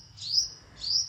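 Small sparrows give two bright, high chirps about half a second apart, clear and close against a quiet background.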